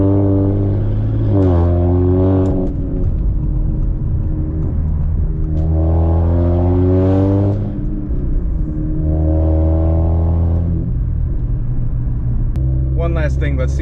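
Modified Audi RS5 being driven at low speed, its engine making a deep, loud rumble inside the cabin that swells in several revving pulls as it moves through the gears, with a person speaking over it.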